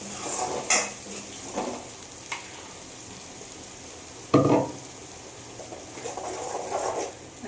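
Ground masala paste fries with onions in a pan for a spicy fish head curry, a steady sizzle broken by sharp spoon scrapes and clanks against the pan, one loud stir midway.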